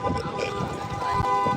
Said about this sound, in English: What you honking at?